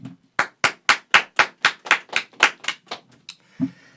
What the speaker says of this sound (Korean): 짝짝짝 박수치라고 빨리.